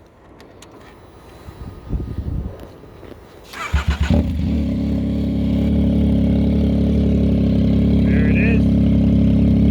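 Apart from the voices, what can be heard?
Yamaha Tracer 900 motorcycle with Austin exhaust running, revving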